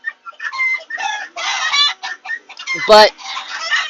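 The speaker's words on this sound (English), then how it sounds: "they're really sweet and great chickens" Small-egg heritage chickens clucking close by in a rapid string of bursts, with one louder squawk near the end and a brief spoken word.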